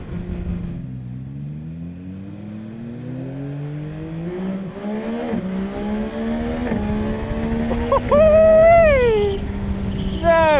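A 2024 Yamaha MT-09 motorcycle pulls hard through the gears, its engine note climbing in steady sweeps with a quick-shifted change and rising again, loud and close, with wind noise throughout.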